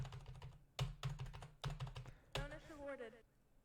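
Computer keyboard keys pressed during a HyperCard game, a few distinct clusters of rapid clicks close by, with a voice speaking over the last part.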